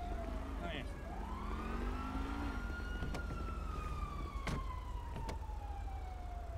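A police siren wails in the distance, its pitch sweeping slowly up and down over a constant low rumble of traffic.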